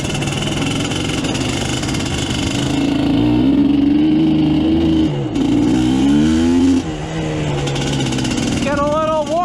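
A Suzuki LT250R ATV engine runs loud and close on a warm-up lap, holding a steady drone before revving up and down in rising and falling pitch sweeps.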